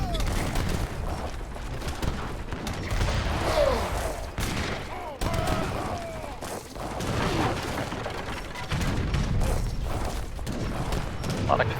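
Mortars firing during an Age of Empires III treaty match, repeated booming blasts and dense gunfire in a continuous battle din, with a commentator's voice talking over it.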